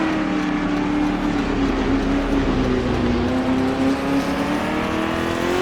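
A 1966 sportscar's race engine from Daytona 24 Hours 1966 holds a loud, steady drone with a slowly bending pitch, close and continuous, with no voices over it.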